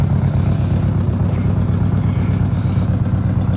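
1983 Honda Goldwing GL1100 motorcycle engine idling nearby, a loud, steady low rumble with an even, pulsing beat throughout and no voices.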